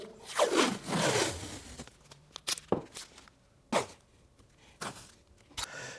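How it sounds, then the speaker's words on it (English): Tape being pulled and torn from a roll for the tape and CA glue trick to hold a router guide in a woodworking shop: a few sharp ripping and scraping bursts, close and fairly quiet, separated by pauses. "I'm going to use the old tape and CA glue trick."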